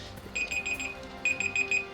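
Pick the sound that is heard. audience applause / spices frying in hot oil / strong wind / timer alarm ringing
timer alarm ringing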